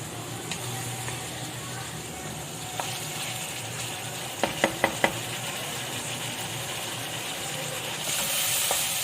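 Chicken and carrots stir-fried in a pan with soy and chili sauce, a steady sizzle under a few sharp clicks of a utensil against the pan, growing louder near the end.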